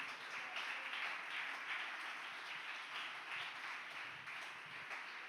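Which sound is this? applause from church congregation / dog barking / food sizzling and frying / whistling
applause from church congregation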